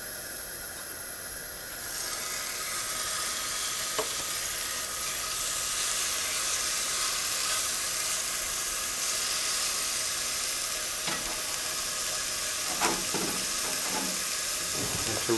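Beef stew meat hits hot oil in a Dutch oven on a camping stove, setting off a steady, loud hissing sizzle that holds throughout, with a few faint clinks of stirring near the end.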